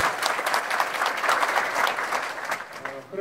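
Applause fills a founding convention for a regional labour human-rights centre as a founding declaration is approved, a steady dense clapping from the gathered crowd that holds for about three seconds before thinning slightly at the end.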